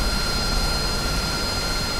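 A Harrier jet engine in the DCS flight simulator gives a continuous, loud, even whine and rumble with a steady tonal edge, heard alone without talk.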